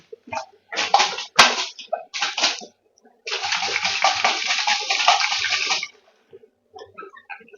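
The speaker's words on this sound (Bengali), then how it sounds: "এইভাবে বোতলটাকে ধুয়ে নিচ্ছি" Water splashes and swirls inside a glass bottle being washed, in short bursts and then a longer steady rinse, close and loud, with brief clinks between.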